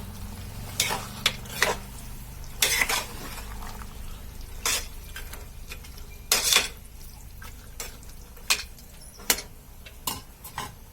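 Salt and turmeric being stirred into vegetables in a pot for home-style pulao: scattered metallic clinks and scrapes of a spoon against the pan, close and fairly quiet, spaced irregularly with short gaps.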